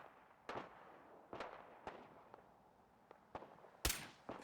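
Gunshots in the video game Fallout 4 during a fight with raiders, a handful of sharp separate shots spaced irregularly over a faint background, fairly quiet, no talk.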